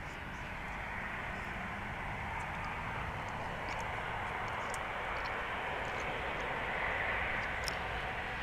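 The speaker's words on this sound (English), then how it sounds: "This is one of the few destinations for an A340. Lufthansa has, I don't know, maybe 25 in their fleet." A Lufthansa Airbus A340, a four-engine airliner, roars steadily at DFW International Airport with a broad, sustained jet rush that holds at an even, moderately loud level throughout.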